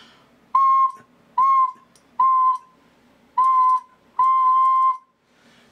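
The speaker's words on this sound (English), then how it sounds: "when I blow this whistle" A whistle tuned to a Helmholtz resonator sounds five clear, steady tones of about half a second each, with short gaps between, loud and close in a quiet room.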